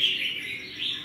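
Red-whiskered bulbuls (Chào Mào) chirping, a clear bright whistling call sustained close by with slight rises and falls, alone without talk.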